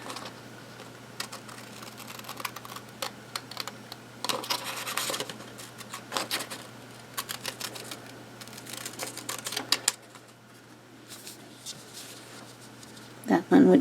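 Scissors cutting out a drawn shamrock shape for a St. Patrick's Day T-shirt, soft close snips and rustling of the material in irregular bursts at low volume, with no talking.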